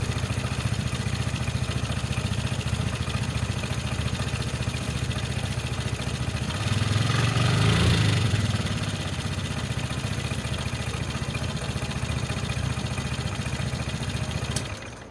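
A Piaggio Fly 150 3V scooter on its center stand starts up, its single-cylinder engine swelling briefly in a short rev before settling into a steady, close idle that runs to the end, with no talking.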